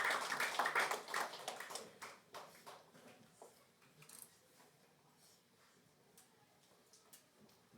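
A church congregation applauds, the clapping strongest at first and then thinning out and fading into a quiet room.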